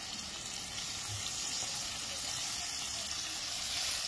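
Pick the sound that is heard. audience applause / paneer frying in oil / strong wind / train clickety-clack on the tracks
paneer frying in oil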